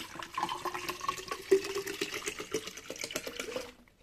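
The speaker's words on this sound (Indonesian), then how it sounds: "Sekarang saya tambah lagi airnya," Demineralized water pours into a DIY HHO oxyhydrogen generator with a gurgling, splashing fill that runs unevenly for several seconds and then cuts off.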